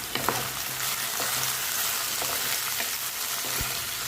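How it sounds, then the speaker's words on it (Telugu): Brinjal pieces fry in oil in a pan while being stirred with salt, a close, constant crackling sizzle broken by occasional sharp spatula scrapes and knocks, with no one speaking. "ఇప్పుడు ప్యాన్ తీసుకొని అందులో కొంచెం నూనె పోసుకొని ఈ వంకాయల ముక్కల్ని అందులో వేసి బాగా కలపాలి"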